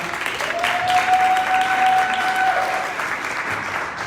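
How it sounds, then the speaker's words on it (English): Crowd applause at a monthly community political meeting, a steady wash of clapping with a thin sustained tone sounding over it for a couple of seconds. "another round of applause"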